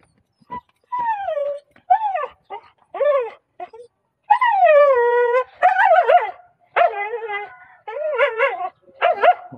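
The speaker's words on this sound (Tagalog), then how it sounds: "Ito ang aking aso na maingay." A small dog barks and yips repeatedly in short, irregular bursts, close by, with some whiny, drawn-out yelps mixed in.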